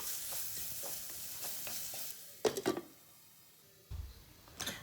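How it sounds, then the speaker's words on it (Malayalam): Chopped onion with ginger, green chili and garlic sautés in a pan with salt, a soft sizzle punctuated by quiet stirring scrapes and a few sharper clanks of the spoon, close and fairly faint. "നമ്മൾ അരിഞ്ഞ് വെച്ച വലിയുള്ളി കൂടി ചേർത്ത് ആവശ്യത്തിന് ഉപ്പും കൂടി ചേർത്തിട്ട് നന്നായിട്ട് വഴറ്റിയെടുക്കുക"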